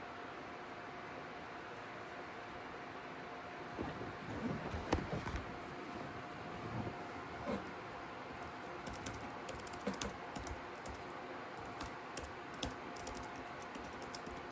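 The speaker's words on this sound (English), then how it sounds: "I'm gonna type in, why isn't the Polaris RZR?" Someone typing on a computer keyboard in a quiet room, with soft irregular bursts of key clicks over a faint hiss and no talking.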